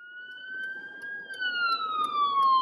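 An ambulance siren passes by, its wailing tone sliding slightly as it goes, with steady traffic rumble underneath.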